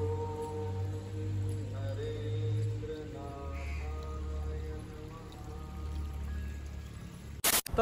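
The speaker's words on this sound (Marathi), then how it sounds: "इथं रात्रभर पाऊस चालू आहे, कंटिन्यू पाऊस चालू आहे" Continuous heavy overnight rain in Ratnagiri forms a steady, even wash with a low drone beneath it, ending in a sharp, loud burst of noise.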